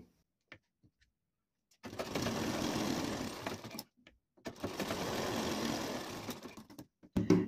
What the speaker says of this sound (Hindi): इस पट्टी को आपको अंदर फोल्ड करना है ऐसा रखेंगे और किनारे पर इसमें एक सिलाई लगाएंगे